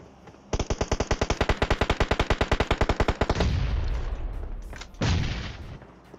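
Rapid automatic gunfire bursts in a fast, even rhythm for about three seconds, followed by a rumbling blast and another loud boom, typical of a shooter game.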